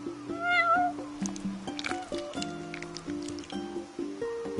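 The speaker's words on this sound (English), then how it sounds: "You're one spoiled cat." A cat in the Final Fantasy XV video game gives several short meows over busy game background music and rustling sounds, with a brief high cry near the start.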